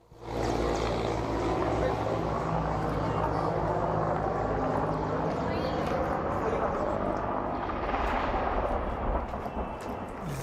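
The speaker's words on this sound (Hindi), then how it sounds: "हेलीकॉप्टर चलने की आवाज आ रही है" A helicopter flies in fog, producing a loud, continuous rotor and engine roar that holds steady for several seconds, swells briefly, then begins to fade.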